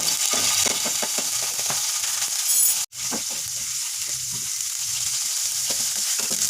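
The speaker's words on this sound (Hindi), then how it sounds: "हाफ चम्मच लहसुन का पेस्ट डाल दूंगी और हल्का सुनहरा होने दूंगी।" Steady, dense sizzling of garlic paste frying in hot oil, with occasional soft stirring scrapes and a brief dropout midway; no voices.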